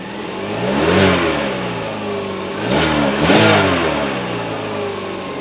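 A 2017 Chevy Sonic LS sedan's engine fires up with a turn of the key and revs twice, rising and falling in two loud surges before settling back toward idle.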